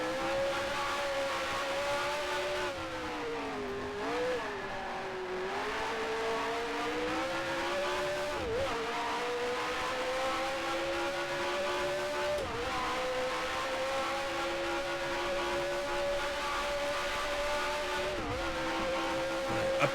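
Race car engine in Grand Prix Legends, a steady high-pitched drone rising and falling through gear changes and lifts for corners, with brief dips under braking, loud and close throughout with no talk.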